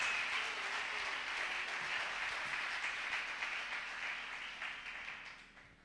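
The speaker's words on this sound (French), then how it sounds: "Si vous êtes prêts, on acclame." A church congregation applauds and cheers together in a large hall, a dense wash of clapping that holds steady and then slowly fades away.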